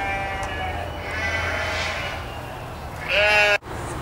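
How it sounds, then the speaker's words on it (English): Sheep grazing on a kudzu patch bleat in a few distinct calls, one loud and close near the end, over a low outdoor background hum. "So what I decided I was going to do is I put these sheep on it back here, and they seem to like it pretty well."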